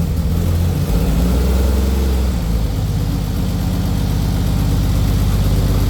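A car engine runs steadily at a dealer's lot for European import cars, a strong continuous low rumble close by with a slight shift in pitch early on, and no talk.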